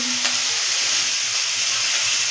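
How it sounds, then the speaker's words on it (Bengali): Chana masala with ginger and garlic sizzles loudly in a hot pan as it is stirred, a dense, constant hiss with a brief low scrape at the start. "এটাকে আমরা একটু ভালো করে নাড়িয়ে নেব"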